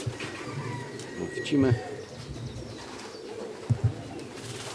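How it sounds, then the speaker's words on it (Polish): Pigeons cooing at a racing pigeon loft in Żary during a homecoming, soft low coos under nearby conversation, with a few short fluttery sounds and outdoor ambience. "Chodzą te gołębie tutaj bez problemu."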